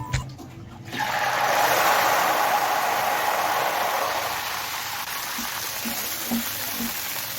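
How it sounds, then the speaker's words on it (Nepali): Sugar syrup of sugar and water poured slowly into fully melted ghee off the heat, a steady wet pouring rush that starts abruptly after a second and continues evenly, fairly close, with no talk. "अब हामी आगो निभाएर अघिको चास्नी अर्थात् चिनी र पानीको घोललाई यसमा बिस्तारै खन्याउँछौँ।"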